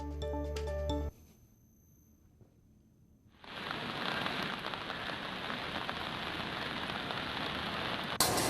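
Heavy rain falling in Uttarakhand: after a brief tonal burst and a quiet gap, a loud, steady downpour sets in at about three seconds and keeps a dense, even hiss to the end.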